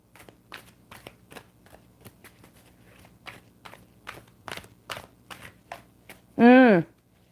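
A deck of cards being shuffled during a livestream reading, a series of quick riffling bursts close by, followed by a short voiced sound at the end.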